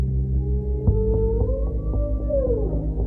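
Whale song fills the scene, with long, sliding tonal calls that rise and bend against a steady low rumble, plus a few soft clicks, heard alone and fairly close.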